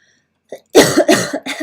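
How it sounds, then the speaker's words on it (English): A short cluster of harsh, close coughs, a faint throat sound first, then two or three hacking bursts in quick succession. "My cough's kind of going away, but not really."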